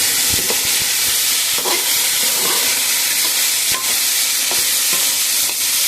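Onions frying in a pan for an eggplant curry, a loud continuous sizzle broken by repeated scraping stirs, close and with no voices.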